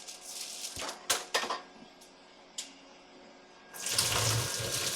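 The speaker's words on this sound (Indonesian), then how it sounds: "Lalu kita buang airnya." Cooking water drained off boiled green chilies into a kitchen sink: a few clanks of a pot, then a steady rushing pour of water that runs loud and close to the end, with no talking.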